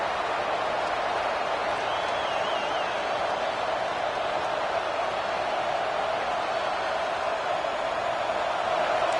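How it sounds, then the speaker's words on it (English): A football stadium crowd roars in a broad, steady wash of noise that holds evenly throughout, distant and sustained, with faint hints of clapping. "The roar of the crowd trying to fuel this defense to keep them pinned in their own end."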